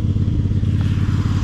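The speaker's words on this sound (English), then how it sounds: "for a little garden tractor, it is amazing how much work it can do" A small garden tractor's engine runs steadily up close, a loud, continuous low chugging rumble with faint clatter, heard alone.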